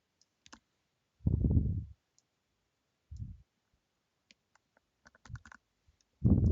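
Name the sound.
mouse clicks in ZBrush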